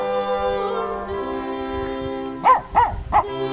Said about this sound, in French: petits chiens qui nous visitent.